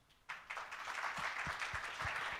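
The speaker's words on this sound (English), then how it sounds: "So please give them a round of applause." A conference audience at a renewable energy event breaks into applause, a dense, even patter of many hands that starts abruptly and holds steady at moderate volume.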